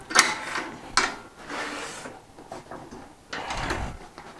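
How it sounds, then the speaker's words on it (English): Clamps are cranked tight on a wooden coffee table during glue-up assembly, giving several short mechanical clicks and ratcheting scrapes in uneven bursts, close and fairly quiet. "I'm going to clamp these in. Nice and tight now."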